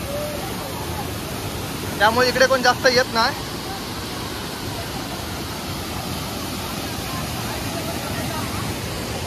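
Steady roar of a tall waterfall plunging into a pool near Devgad, a continuous wash of falling water throughout, with a voice talking briefly over it near the start.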